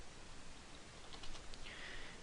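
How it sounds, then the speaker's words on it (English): Someone types on a computer keyboard, producing faint, soft keystroke clicks against a hiss of background noise. "we're going to type Android Material Design"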